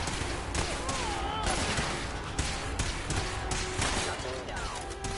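Rapid bursts of video game gunfire, a dense run of sharp cracks and thuds over several seconds, loud and close, mixed with other game effects and a voice talking over it.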